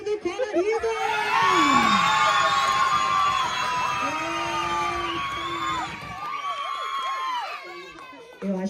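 A crowd at a resort colour party cheers and whoops, with excited shouts and high voices rising and falling over several seconds before thinning out near the end.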